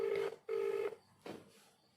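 A phone call being placed: two long steady tones near each other, then a shorter fainter third one, like dialing and ringback heard up close with no talking.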